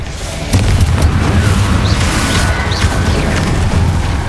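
A Confringo fire spell blasts in Hogwarts Legacy, a loud, close explosive boom followed by sustained crackling, rumbling impact noise with a few whooshing streaks.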